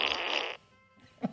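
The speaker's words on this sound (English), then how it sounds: "But Alexa, play a wet fart. There we go. Here comes a wet fart." A wet fart sound effect played by an Alexa smart speaker: a loud, sputtering half-second burst, then a short pause and a brief low blip, with no talking.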